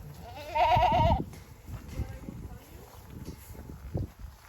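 Goats on a ranch bleat loudly nearby in a wavering burst, followed by quieter rustling and faint activity; a person talks briefly in the background.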